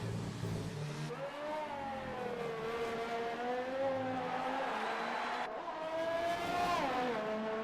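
A Formula race car in Baku's castle section in a PS4 racing game, the engine whining steadily close by, its pitch rising and dipping through shifts with no talk.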